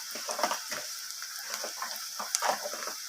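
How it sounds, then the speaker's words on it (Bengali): Lightly fried onions sizzling in a pan with a little turmeric powder, a steady close hiss broken by crackles and the soft scrape of stirring. "পেঁয়াজটা আমার হালকা ভাজা হয়ে এসেছে এরপর আমি এখানে সামান্য পরিমাণ হলুদ গুঁড়ো দিয়ে দিলাম"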